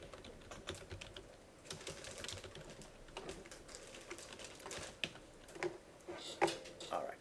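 Computer keyboard typing runs as a steady stream of light clicks and taps at moderate closeness, with a few sharper keystrokes near the end.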